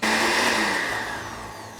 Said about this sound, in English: Into a blender, you need to throw all of these ingredients